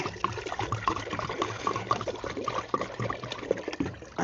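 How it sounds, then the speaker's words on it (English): Water poured into a pot on a wood-burning stove, a steady splashing trickle that runs close and continuous for several seconds with no one talking. "Let me add some water on there now."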